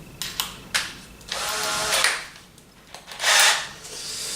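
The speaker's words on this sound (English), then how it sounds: "I'm going to use this little thing now, which is called a countersink" Countersink bit drilling into wood for screw heads on a table frame, several short bursts of a small power drill whirring, close and moderately loud, separated by brief pauses, with no talk.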